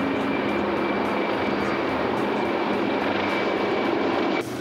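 Military guard helicopters patrol the sky overhead, producing a continuous, even roar of rotor and engine noise that fills the clip without pause.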